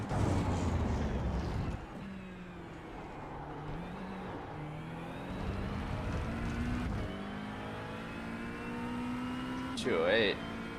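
Ford Mustang race car engine in the iRacing sim, a steady droning note that rises and falls with shifts and throttle changes, with a brief higher whine near the end; a voice talks over it at times.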